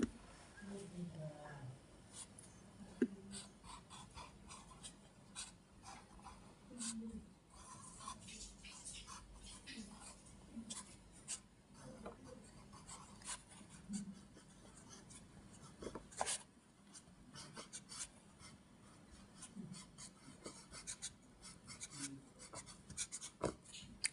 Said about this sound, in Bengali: এটি আমরা নিচে লিখব সুন্দর করে